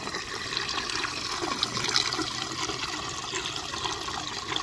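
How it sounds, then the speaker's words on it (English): Water siphons out of a newly plumbed aquaponics grow bed, a steady, fairly faint gurgling rush with small irregular splashes and no talking. "Yep, so this is siphoning right now, which is cool."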